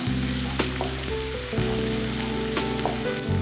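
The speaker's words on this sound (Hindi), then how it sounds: "लहसुन और अदरक को भी 1 मिनट तक पका लेंगे" Onions frying in a pan with ginger and garlic paste, a loud, close, continuous sizzle with occasional stirring scrapes and clatter.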